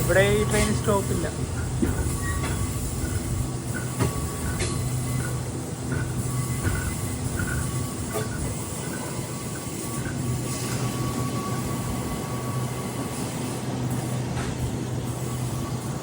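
A jungle train in Malaysia runs through a station without stopping, with a steady loud rumble of wheels on rail and faint rhythmic clacks and squeals carrying on through the whole stretch.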